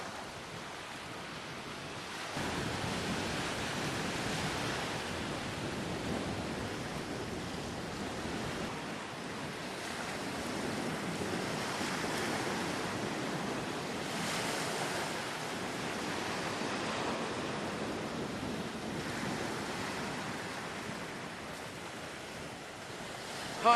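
Waves break and wash along a beach in Baja in a steady, broad roar that swells and eases in slow surges, with wind rumbling across the microphone and no voices.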